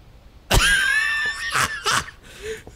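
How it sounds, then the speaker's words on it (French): A sharp, high scream bursts out in the Phasmophobia ghost-hunting game, followed by a couple of shorter strained cries and a fainter sound trailing off, loud against an otherwise quiet backdrop. "Je t'ai entendu crier."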